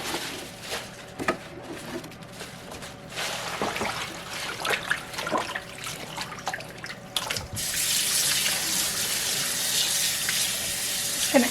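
Garden leafy greens are washed in water at a sink. Scattered splashes and trickles come first, then a tap gushes steadily and loudly through the last few seconds, with no talking.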